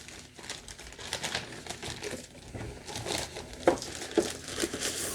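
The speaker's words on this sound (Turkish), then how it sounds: "Ürünü poşetten çıkartalım." A Xiaomi Mi 2 smart bluetooth body-fat scale being pulled out of a plastic bag, with close, irregular crinkling and rustling bursts and a few sharper crackles near the end, and no speech.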